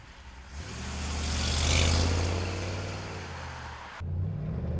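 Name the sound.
1948 Ford pickup truck driving down the road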